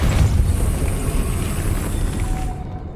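The Depulso spell in Hogwarts Legacy is cast with a loud, dense rumbling force blast that holds steady for over two seconds, then cuts off abruptly into near silence.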